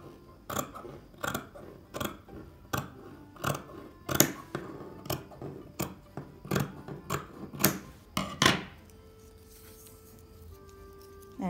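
Scissors snipping along the edges of a handmade beaded bag, a steady series of crisp close cuts about once every half second, then a soft rustle and hum as cutting stops.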